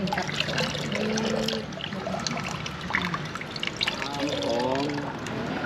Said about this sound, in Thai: น้ำสองก็คือล้างเส้นให้มันใสสะอาดเนาะ